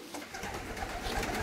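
Racing pigeons at a breeder's loft coo softly in a brief, low murmur, close by and alone without talk.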